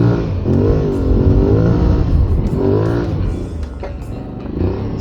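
Aprilia Tuareg 660 motorcycle engine labouring through sand, a loud close rumble that rises and falls in pitch as the throttle surges and eases, with faint clicks and rattles on top.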